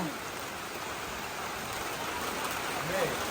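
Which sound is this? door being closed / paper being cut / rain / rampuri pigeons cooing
rain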